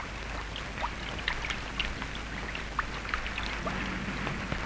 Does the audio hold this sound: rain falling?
yes